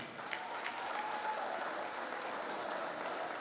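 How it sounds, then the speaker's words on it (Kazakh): A crowd gathered at a 20-year class reunion applauds in honour of a teacher, a dense, steady wash of clapping throughout that sounds somewhat distant in a large room. "апайымызды құрметіне шапалақ ұрғандар 100-ге келсін."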